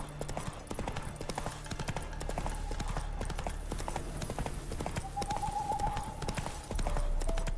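Continuous clip-clop of a galloping horse in The Witcher 3 at night, hoofbeats rapid and prominent over a low game soundscape, with a faint whinny partway through.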